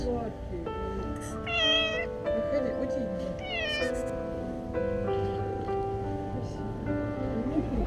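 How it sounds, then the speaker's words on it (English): A cat meows repeatedly for help, rising plaintive cries over a dense background of music and voices. "The cat was crying for help"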